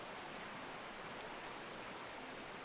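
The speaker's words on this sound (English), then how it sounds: "let's leap through the waterfall" Steady broadband rush of a waterfall in the Pokémon Scarlet video game, a dense continuous roar of falling water that fills the short stretch evenly with no talk.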